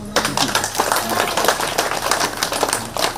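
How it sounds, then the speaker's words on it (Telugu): A group of people clap together in a loose, fairly close burst of applause lasting a few seconds, with a voice faintly under it. "ఒకసారి గట్టిగా క్లాప్స్ చేద్దాం"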